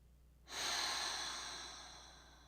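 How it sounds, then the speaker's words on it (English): A small yoga class breathes together, a sudden broad whooshing exhale through the mouth swelling in and slowly tapering off over a couple of seconds, close and steady with no talking. "Together we'll inhale through the nose and exhale audibly out the mouth"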